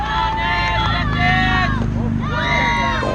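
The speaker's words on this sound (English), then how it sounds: "The crowd is cheering loudly on both sides." Crowd at a youth girls' baseball game, Oakland Vipers against Watsonville Aggies, cheering loudly from both sides, a steady blended roar of voices with shouts and calls rising throughout.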